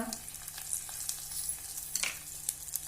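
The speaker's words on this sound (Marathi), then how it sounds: "लसूण ठेचलेला घालूया हिंग आणि हळद दोन सुक्या मिरच्या" Crushed garlic, asafoetida, turmeric and two dried red chillies hit hot oil for horse gram soup, a close, continuous crackling sizzle with quick pops and stirring scrapes.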